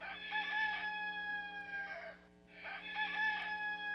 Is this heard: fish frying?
no